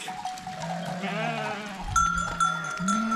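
Goats and a ram bleat in a snowy livestock yard, several overlapping calls close by, with clear bell tones ringing out in the second half.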